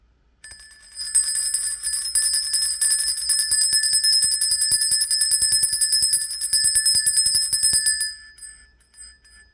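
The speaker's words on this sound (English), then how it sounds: "Let's ring the bell." A bright metallic bell rings continuously with rapid repeated strikes for several seconds, then its ringing tone lingers and fades out.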